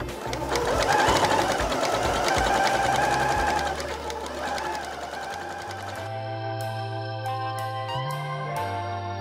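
A sewing machine running long continuous seams through quilted fabric, a loud close rhythmic whir that shifts pitch and speed partway through, then settles into a steadier pulsing hum.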